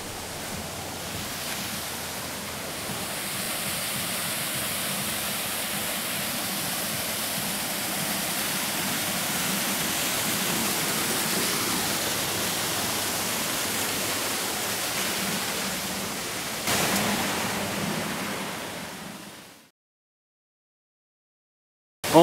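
Steady rushing roar of a waterfall at an outdoor mini golf course, close and continuous for about twenty seconds with no talking, ending abruptly in silence.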